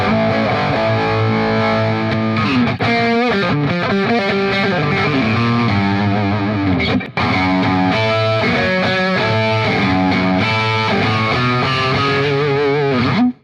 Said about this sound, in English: I'll play a little with distortion